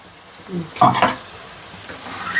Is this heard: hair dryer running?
no